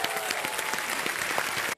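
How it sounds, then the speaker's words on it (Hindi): Loud, sustained applause from a TV quiz show studio audience, dense rapid clapping filling the whole moment before cutting off abruptly. "एक बार जोरदार तालियां हो जाए इनके लिए."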